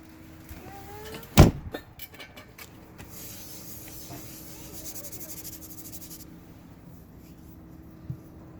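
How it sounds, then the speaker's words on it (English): A car door slams shut once, loud and close, in a garage where widebody front over-fenders are being fitted, followed by faint shuffling and a soft knock near the end. "You want to close the door? All right, here it comes."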